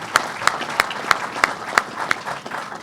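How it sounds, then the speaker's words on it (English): Rhythmic unison clapping from a crowd honoring Governor Cuomo at Belmont Park race track, sharp evenly spaced claps about three per second over a softer scattered applause bed. "A round of applause for Governor Cuomo."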